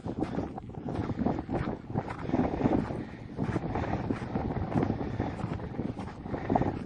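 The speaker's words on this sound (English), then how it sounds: "While you enjoy the wind." Gusty wind on the Humphreys Peak hiking trail in Arizona, rushing and buffeting across the microphone in uneven bursts, loud and close, with no voices.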